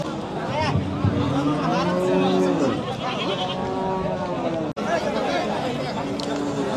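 Cattle call out at a crowded Qurbani cattle market in Hozrotpur, with drawn-out bellowing cries rising over steady crowd chatter and a nearby voice talking throughout.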